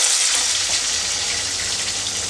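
Medium onion and curry leaves dropped into a hot oil tempering for vegetable sambar, a loud, even, close-up sizzle that holds steady throughout without speech.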